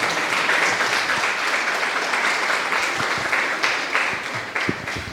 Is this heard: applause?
yes